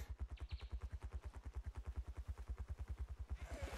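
Rapid missile fire from a weapon in the video game ARK Survival Ascended, a fast, steady train of sharp low thumps lasting several seconds at a moderate level, ending in a brighter burst.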